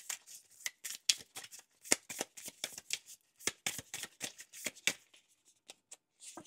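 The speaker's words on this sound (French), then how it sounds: "on va te prendre ta dernière petite carte pour ce mois" Tarot cards being shuffled by hand, a quick run of crisp riffling flicks and slaps in irregular bursts, close and fairly quiet, with no talking.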